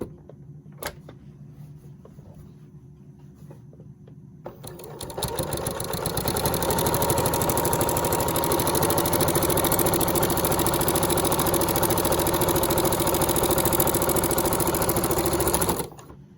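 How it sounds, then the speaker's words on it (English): A sewing machine stitches the short ends of a quilted fabric Easter basket, starting after a few quiet seconds and running in a fast, steady, close mechanical whir that stops abruptly near the end. "I am going to sew the short ends at a 1/2 inch seam allowance"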